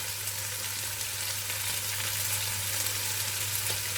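Potatoes fry in an open pan, making a steady, loud, dense sizzle that continues without a break and with no talking.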